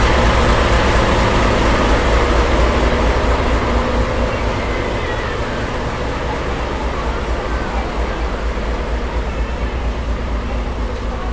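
A Japanese diesel locomotive of the Sagano Romantic Train rumbles steadily and loudly up close, a heavy engine drone that holds constant throughout.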